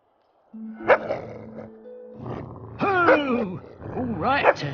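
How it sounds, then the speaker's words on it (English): An angry stray dog in the Fable 2 video game growls and gives a few harsh barking yelps, close and loud, with character voices talking around it. "There's a nice, angry, stray dog."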